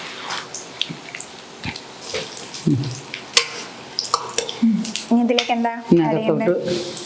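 Raisins dropped into hot ghee with nuts in a pan sizzle and crackle as they are stirred, with bursts of frying noise and spoon scrapes; a voice speaks intermittently over the cooking.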